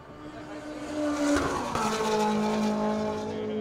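Honda S2000 race car from the Rockstar Garage lapping Buttonwillow in a racing video game, its engine droning steadily with shifting pitch and a brief tire squeal midway, continuous and fairly loud throughout.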